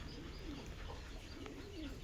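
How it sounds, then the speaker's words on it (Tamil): Breeding pigeons cooing in a loft, soft repeated rolling coos in two short phrases against a faint steady background hum. "புறா பார்த்திங்கன்னா ரெகுலராக ப்ரீடிங் ஆகிட்டுருக்கிற புறா மறுபடியும் முட்டை விட்டு அடைப்படுத்திருச்சு."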